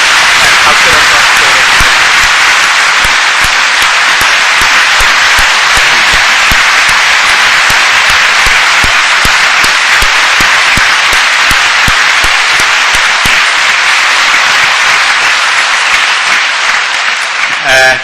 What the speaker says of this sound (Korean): 오늘 이 시간 우리가 받은 은혜를 감사로서 박수로서